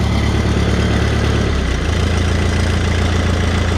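A Minneapolis Moline GTB tractor with a 302 engine idles steadily, a loud, continuous low rumble with an even throb and no voices.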